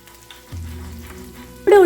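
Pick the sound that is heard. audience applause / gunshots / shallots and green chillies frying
shallots and green chillies frying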